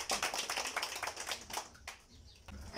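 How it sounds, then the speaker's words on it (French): A crowd at a community gathering applauds a village chief with scattered, uneven clapping. The claps come as sharp individual bursts that thin out toward the end, fairly faint and heard from a distance. "Comme nous ne sommes pas au funérailles, applaudissez pour lui."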